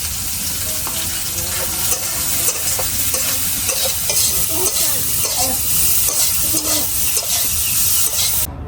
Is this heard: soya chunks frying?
yes